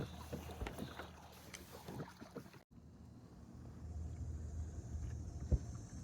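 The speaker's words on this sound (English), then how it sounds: "There's McGregor learning how to paddle off in that Lifetime Tioga" A kayak on the Cape Fear River moves with soft paddle strokes and water washing along the hull, under steady wind noise and a faint low rumble, with one sharp splash near the end.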